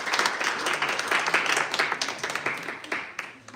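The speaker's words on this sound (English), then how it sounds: "A round of applause," An audience claps for a lecturer at a Tong Il Moo Do martial arts event, a moderately loud, sustained patter of many hands that thins out slightly toward the end.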